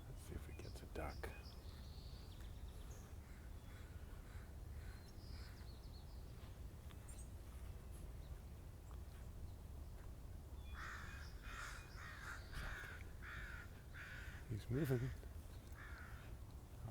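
Crows cawing in the distance outdoors while a coyote chases them, calls scattered across the stretch with a burst near the end, under low wind rumble and brief quiet speech.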